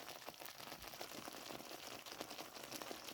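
Ravioli simmering in a pan of alfredo sauce, a steady close bubbling and soft popping that continues evenly throughout.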